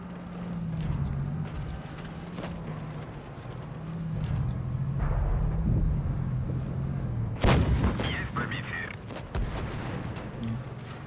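Tank cannon fire in World of Tanks Blitz from an Object 260, a deep rumbling engine drone overlaid by a sharp, loud cannon blast with ringing decay midway, then a smaller thump near the end.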